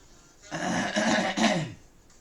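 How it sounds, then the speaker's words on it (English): A single drawn-out throat clearing, close and fairly loud, about a second long, with no talking around it. "I did really clear my throat there."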